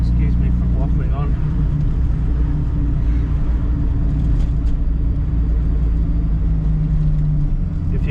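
A turbocharged Chrysler Centura drives along a hilly coastal road, its engine a steady, loud low rumble that continues under someone talking throughout.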